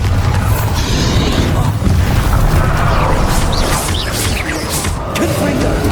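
Spell combat in Hogwarts Legacy: a dense barrage of booming blasts, crashes and bursts rolls continuously at high volume, with sharp impacts layered over a heavy low rumble throughout.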